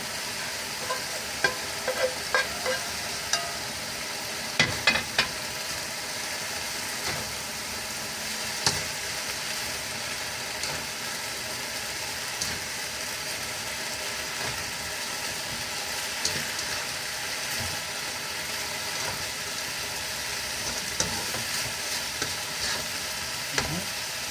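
Tofu sizzles steadily in a hot pan, a constant bright frying hiss broken by scattered scraping clicks from stirring.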